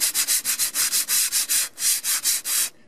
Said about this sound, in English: take some sandpaper. This here is 100 grit, so it's not too coarse, not too fine.